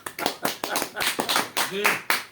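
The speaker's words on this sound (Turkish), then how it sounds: "Genç delikanlı bir alkış olsun bakalım abi." A small group claps for a young man in a Turkish broadcast setting, a run of distinct, close, uneven hand claps with a voice speaking over them.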